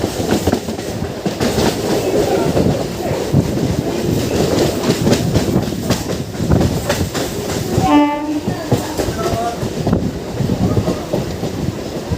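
A Dankuni–Sealdah local train runs steadily with continuous rumble and wheel clatter, near and loud, and a brief horn blast sounds around the two-thirds mark.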